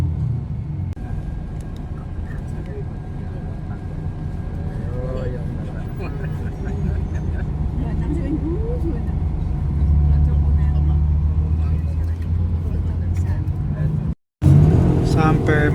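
Inside a moving bus at night carrying Hajj pilgrims, a steady low engine rumble fills the cabin while voices talk throughout, broken by a brief dropout near the end.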